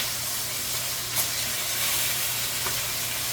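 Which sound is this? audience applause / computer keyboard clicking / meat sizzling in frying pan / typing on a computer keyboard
meat sizzling in frying pan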